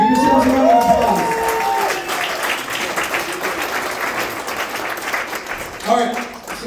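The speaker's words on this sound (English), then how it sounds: "Give yourselves a round of applause" Comedy club crowd breaks into a dense wash of applause with some cheering, loud and steady, while a host's voice speaks over the start and again near the end.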